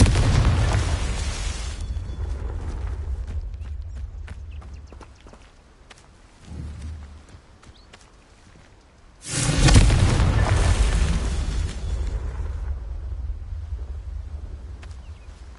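Confringo blasting spells from Hogwarts Legacy go off as heavy explosive booms, one loud burst at the start and another after a quieter stretch with a small thud between them, each trailing off in a long rumbling decay.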